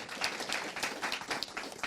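A small group clapping in a studio, a loose uneven patter of hands heard close and alone for a couple of seconds.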